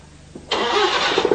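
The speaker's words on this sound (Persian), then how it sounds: "موتور روشن بکن." A car engine cranks briefly and catches, then settles into a loud, close idle with a few quick revs near the end, no talking.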